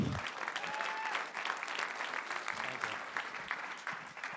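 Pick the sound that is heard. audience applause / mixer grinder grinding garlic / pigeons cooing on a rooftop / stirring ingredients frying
audience applause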